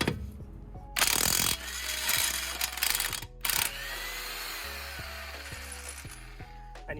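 Impact wrench hammering at a lug nut on a Nissan Leaf during a tire change, a loud burst of rattling mechanical impacts with a short pause, then steady ratcheting whirr continuing to the end.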